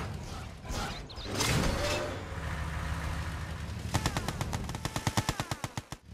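Gatling tanks firing in Red Alert 2: Yuri's Revenge, with engine and battle noise at first, then a run of rapid, evenly spaced gun bursts that speed up and grow louder toward the end.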